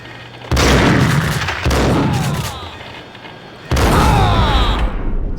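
Gunfire rings out in a video game: three loud, close bursts of blasting with booming impacts and rattling debris, each sustained for about a second, set against lower game background noise.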